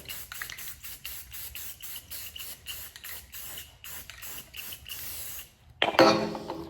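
Spray paint misting onto a part for a third coat in a workshop, repeated short bursts of close hiss in a steady rhythm, ending with a louder clatter.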